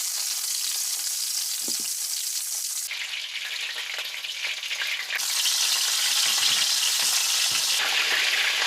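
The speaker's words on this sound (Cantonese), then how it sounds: "再煎一煎佢。" Chicken legs pan-frying to a deep golden-brown skin, a steady close dense sizzle that swells louder partway through, with faint clinks of a utensil against the pan and no talking.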